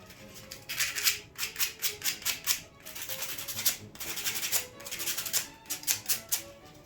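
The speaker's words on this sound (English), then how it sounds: "Sandpaper." Sandpaper rubbed in quick back-and-forth strokes during a farmhouse DIY craft, a close, rhythmic scratchy rasp in short bursts with a brief pause midway.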